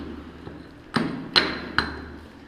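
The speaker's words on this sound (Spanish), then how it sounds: "eso es un martillo de geólogo" A geologist's hammer strikes rock three times in a slow, uneven sequence, each a sharp, fairly close metallic crack with a short ringing tail, preceded by a faint softer tap.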